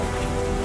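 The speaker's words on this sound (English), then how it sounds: "Nice job with the rain." Steady rain falls in a Star Wars fan film, a dense, even hiss of drops on surfaces that holds without a break for under a second.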